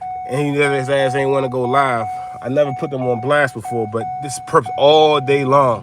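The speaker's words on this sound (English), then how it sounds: "Sorry about the beeping" A parked car gives off a steady electronic tone that runs nearly the whole time, broken by brief gaps, partly masked beneath someone talking continuously over it.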